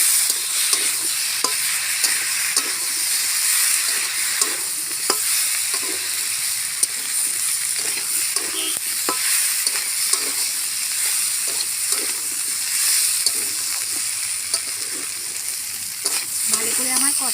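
Kohlrabi stir-fries in a hot pan with ginger and cumin paste, a steady sizzle broken by repeated scraping stirs of the spatula, close and loud, with no voices.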